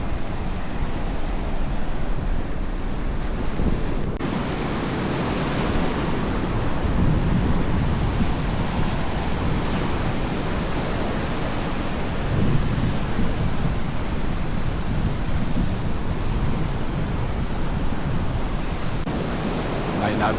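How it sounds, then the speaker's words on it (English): Wind-driven rain and storm gusts battering an off-grid farm house, a loud, steady roaring wash of noise that continues without a break and swells in places, with no voices. "Like the rain's blowing this way."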